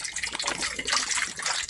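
Water poured into a cat water fountain, a brief steady gush of liquid splashing into the reservoir, close and moderately loud with no speech.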